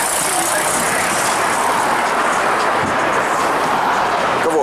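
A VAZ 2114 car drives along the road, its engine and tyre noise forming a steady, loud rumble that runs unbroken from start to end.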